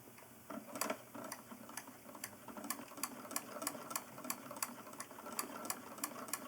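A Lubin film step printer mechanism advancing frames: an even series of sharp mechanical clicks and ticks, about two to three per second, up close and moderately quiet, with no one talking.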